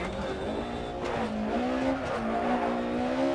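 A rally car engine in Dirt Rally on a German stage, revving steadily with rising and falling throttle pitch, close and continuous, with faint tire noise and no talk.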